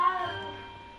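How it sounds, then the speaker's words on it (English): A short, soft cat meow in the video game Hogwarts Legacy, a single call that fades quickly over a quiet game backdrop. "Is that a cat?"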